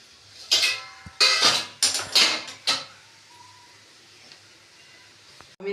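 A steel bowl picked up and set down in a kitchen, several loud close metallic clanks and scrapes in quick succession, then a quiet pause with a faint clink at the end.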